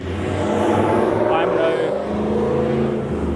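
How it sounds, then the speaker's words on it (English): A loud van or truck drives past on a busy road, giving a continuous heavy engine and road roar that stays strong throughout, with a voice talking over it. "There's so many obnoxious vans and trucks and all these loud noises."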